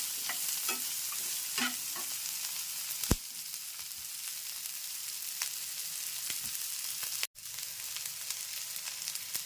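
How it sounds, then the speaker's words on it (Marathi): Onion and capsicum stir-fried on high gas heat for tava pulav, giving a continuous soft sizzle broken by repeated scraping stir strokes and a sharp clack near the middle, with no talking. "शिमला मिरची इथे छान अशी फ्राय होते कांदा पण त्याबरोबर फ्राय होतोय"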